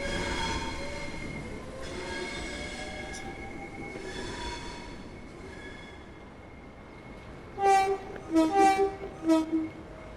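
A 3-car train in Train Sim World 6 rolls out of a station with a steady low rumble and rail noise, then a series of loud, close horn blasts sound near the end.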